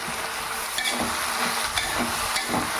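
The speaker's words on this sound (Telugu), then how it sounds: "గరిటె పెట్టి శుభ్రంగా తిప్పుకుందాం." A ladle stirs an Andhra-style broad beans fry with garlic and chili powder in a hot pan, making repeated scraping strokes over a constant close sizzle.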